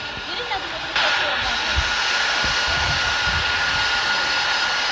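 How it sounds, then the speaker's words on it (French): An airliner takes off in the airport game World of Airports, a loud, steady jet engine roar that jumps up in level about a second in, with a person talking over it. "on va finir sur cet avion qui décolle"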